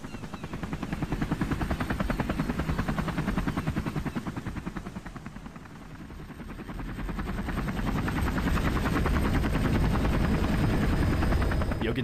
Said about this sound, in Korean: 헬기가 되게 낮게 난다. 무슨 헬기지? 주황색인 거 보니까 소방 헬기 같은데.